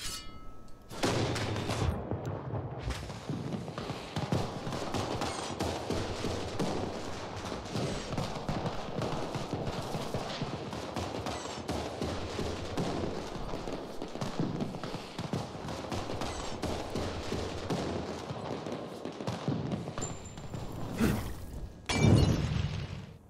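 A long, rapid crackling barrage of sharp video-game firecracker pops and bangs in Dying Light 2, dense and continuous, with a louder burst near the end.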